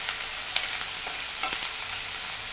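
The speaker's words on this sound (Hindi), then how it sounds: "कटा हुआ प्याज जो है इसे अच्छे से होने दें ब्राउन कलर का" Chopped onion frying until brown in a pan makes a steady, dense sizzle that holds at an even level throughout, with faint stirring scrapes and no voices.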